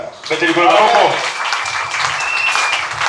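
A church congregation applauds in a burst of clapping that swells and then carries on more loosely, with voices calling out among the claps.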